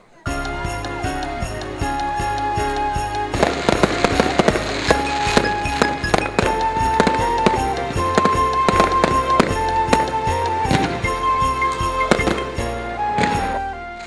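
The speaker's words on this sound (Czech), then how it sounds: "ohňostrojem." Fireworks at an outdoor Christmas tree lighting on a town square, with repeated sharp bangs and crackles bursting over festive music after a quiet opening, fairly loud and irregular.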